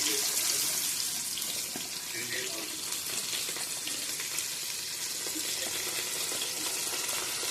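Thinly sliced onions dropped into hot oil for chicken biryani, giving a steady loud hiss and sizzle that runs unbroken throughout, with a voice faintly audible underneath.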